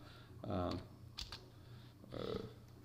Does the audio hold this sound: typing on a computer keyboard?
yes